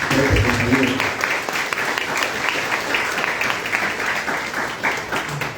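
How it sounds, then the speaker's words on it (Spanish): Lecture audience gives a big round of applause during a sociology keynote, dense clapping from many people that starts strong and stays steady, with a few murmured voices underneath. "para quien pido un aplauso inmenso por este compañero"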